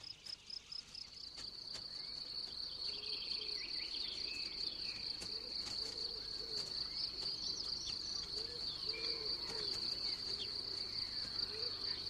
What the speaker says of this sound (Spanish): Este es el grillo topo o alacrán cebollero